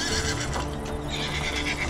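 An Arabian horse neighs loudly and close by, a shaky whinny that rises and falls across the whole moment with no voices over it.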